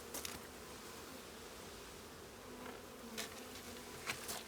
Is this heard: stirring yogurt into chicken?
no